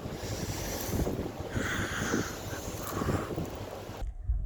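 Strong wind roars and buffets the microphone during a cold lake cruise, a loud, steady rumble with gusty swells, cutting off abruptly near the end.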